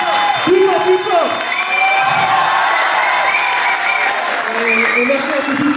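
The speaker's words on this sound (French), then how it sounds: "je tenais à applaudir tout le groupe et à nos jeunes, les mascottes" Audience applause and cheering for a dance group at an Indian dance show, a dense crowd roar with whoops running throughout, mixed with someone talking over a microphone.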